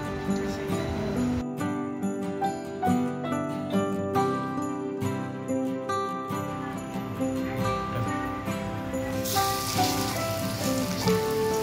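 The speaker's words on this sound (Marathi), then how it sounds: "या बांगड्याला मसाला लावून अर्धा तास फ्रीजमध्ये ठेवलेला, त्यानंतर आता तळायला घेतलेला आहे" Marinated bangda mackerel frying in hot oil gives a steady, close sizzle and crackle that runs the whole way through, partly under background music.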